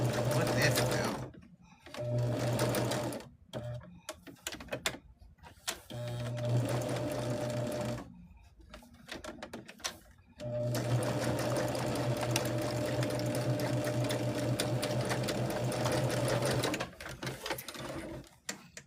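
A sewing machine stitching a quilt block, loud steady whirring runs that start and stop repeatedly with short gaps, while a person talks between and over the bursts.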